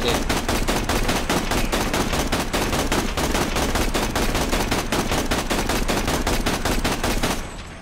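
Sustained machine gun fire in the shooter video game Borderlands: The Pre-Sequel, loud, rapid and continuous for several seconds before cutting off near the end, with no talk over it.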